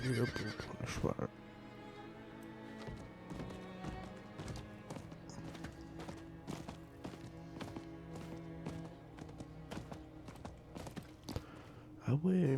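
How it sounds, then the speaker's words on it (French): A horse in Diablo IV whinnies loudly at the start, then its hooves clip-clop in a steady rhythm beneath game music, with another neigh near the end. "Allez hop, on prend le cheval."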